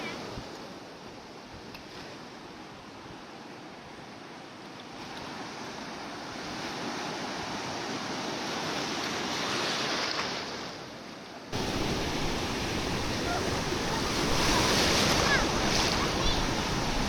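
Ocean waves surging at Ahangama beach in Sri Lanka, a loud continuous roar of surf that swells and grows louder toward the end, with wind buffeting the microphone.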